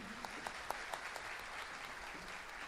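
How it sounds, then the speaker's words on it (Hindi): Soft applause from a concert audience at a musical night in tribute to a singer, faint and distant clapping with a few distinct claps standing out, steady throughout. "उनके लिए तालियां बनती हैं।"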